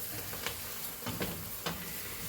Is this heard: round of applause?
no